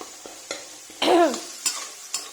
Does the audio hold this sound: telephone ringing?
no